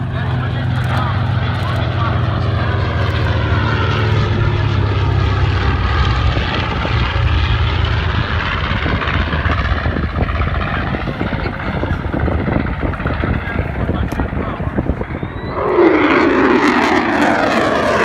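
Propeller aircraft built by North American Aviation, flying at an airshow, with a loud sustained engine drone filling the whole clip and a rising swell near the end as it passes close, with crowd noise and voices mixed underneath.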